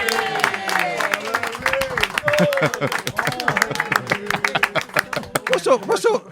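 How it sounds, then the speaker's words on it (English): A small audience claps at a football-themed show, uneven sharp claps with cheering and lively talk and laughter over them, loud and close throughout. "Give him a big round of applause."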